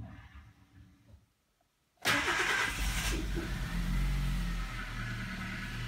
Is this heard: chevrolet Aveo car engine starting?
yes